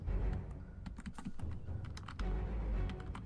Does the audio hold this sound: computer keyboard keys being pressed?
yes